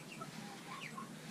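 A hen stuck in the gap between barn walls clucks in short, close bursts, alone and fairly quiet over a little more than a second.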